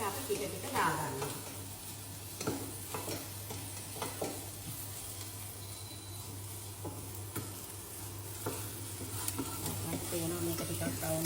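Cut vegetables frying in a pan, stirred now and then, with a steady sizzle and intermittent scraping clicks close by, under a running voice.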